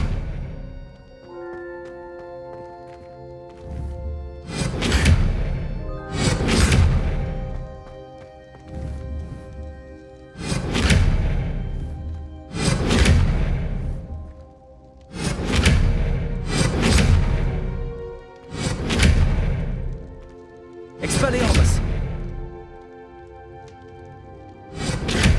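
Bursts of spell casting at candelabras in the Hogwarts Legacy video game, roughly eight bright whooshing blasts with crackling tails arriving in irregular pairs over a soft musical bed.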